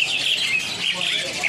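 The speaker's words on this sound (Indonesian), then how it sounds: "Nah kita beralih untuk jalak putih anakan ya, seperti ini ya." Young white starlings at a bird market stall chirp in a dense, continuous high twittering chorus, fairly loud and steady throughout with no pauses.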